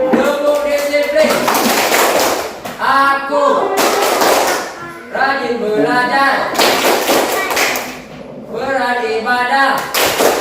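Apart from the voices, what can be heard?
rhythmic 'tepuk disiplin' clapping routine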